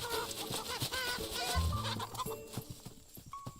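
Angry chickens in the game Love and Deepspace cluck and squawk loudly in a busy, overlapping flurry, sharp cries rising over a rhythmic music bed before easing off.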